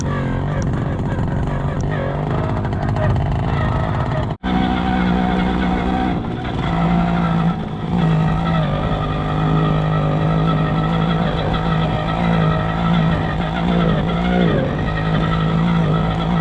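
A Romet Ogar 205 moped rides through snow with its small engine droning loudly and continuously, the revs rising and falling, and the sound cuts out briefly once early on.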